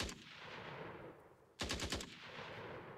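Gunfire from an AI guard in a multiplayer game under development: a quick burst of several rapid automatic shots rings out over a dense, noisy background, followed by a lingering tail.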